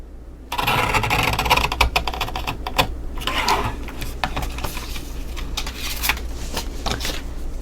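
A paper trimmer slices card stock for a handmade mini album, producing a run of sharp clicks and scraping ticks as the blade carriage slides along, close and crisp with no talking.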